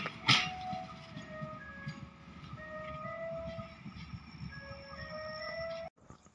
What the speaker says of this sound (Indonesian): Kauripan 283 masuk untuk belok stasiun Kawunganten ya